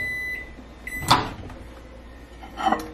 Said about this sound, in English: now we're just gonna microwave it for a minute